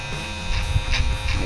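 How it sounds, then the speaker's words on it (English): Electric hair clippers trim a beard clipper over comb, a close buzzing hum with short pulses as the blades pass through hair. "Just clip over comb again."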